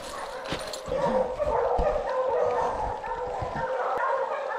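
Hunting hounds bay and yelp continuously at a bear treed in the woods, a dense chorus of overlapping barks close by with no pauses.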